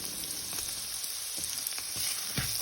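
Pork bun filling stir-fried with ginger, garlic and shallot, a soft steady sizzle broken by light scraping strokes of a spatula, fairly quiet and with no voices.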